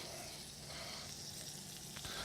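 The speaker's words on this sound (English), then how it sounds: "Want to make sure that we hear sizzle." Bacon-wrapped large shrimp sizzle and fry in a hot pan, a steady quiet crackle running throughout with no talk.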